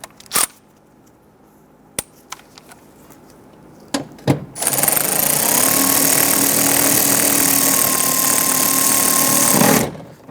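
A power tool runs in one steady, loud buzzing whir for about five seconds as it tightens window regulator bolts on a 2011-2019 Ford Explorer, preceded by a few sharp clicks and knocks of handling.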